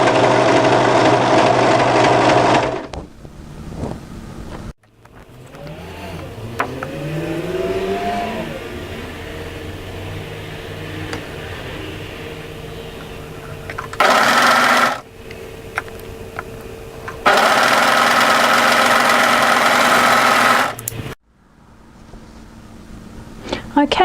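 Sewing machine stitching a continuous seam on a waterfall drape coatigan, setting a sleeve toward the double notch; steady loud motor bursts of a few seconds each, separated by quieter pauses with handling noise.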